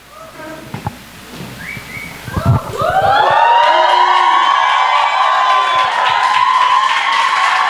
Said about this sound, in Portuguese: Tenho certeza que foi minha filha que começou a gritar aí.